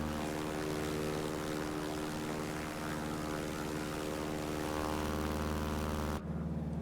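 Propeller drone of a T-6 Texan trainer cruising at about 140 knots in Microsoft Flight Simulator 2024, loud and continuous with steady engine harmonics, then an abrupt shift in tone near the end.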